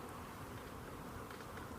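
A caught swarm of honey bees settling in two boxes hums as a dense, continuous buzz, close and unbroken throughout.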